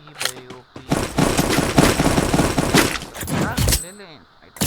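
Dense automatic gunfire from Garena Free Fire fills the clip in rapid bursts, loud and continuous for several seconds before a brief lull and a final shot.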